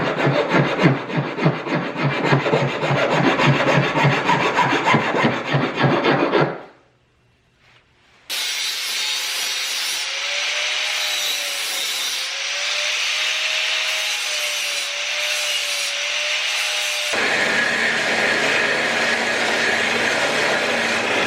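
Metal brake fluid reservoir parts are ground to a bevel before welding, a loud continuous rasping grind that cuts off briefly, then a second steadier high-pitched grinding pass with a faint whine, close up and without speech.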